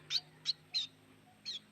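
A small bird held in a person's hand gives four short, sharp high calls spaced irregularly over a faint steady hum, with no talk.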